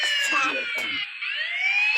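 Police car siren in the Indian Biking 3D video game, a steady wailing tone gliding slowly downward then rising again, with someone talking over it.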